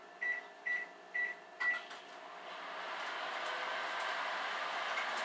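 Four short electronic beeps ring out from a microwave oven as it finishes melting butter, evenly spaced and fairly close, followed by a steady low hum of the appliance or room.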